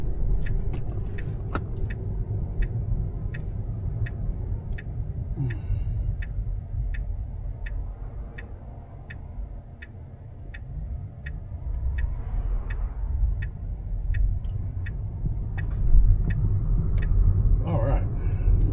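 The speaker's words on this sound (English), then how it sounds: "Hopefully the road noise will not be too much for you." Steady low road rumble from a moving car fills the cabin, with a turn signal ticking rhythmically for a stretch and occasional brief clicks.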